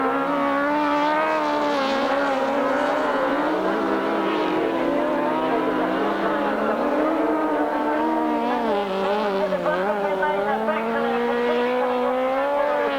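Grasstrack racing motorcycles at the 1993 British Masters round snarl through a continuous high-revving engine drone, pitch rising and dipping as riders head toward the last lap, with several bikes blending together.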